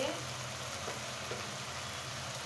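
Onion, garlic and green chili paste frying with spices in a pan, a soft, constant sizzle with a low background hum and a couple of faint stirring touches.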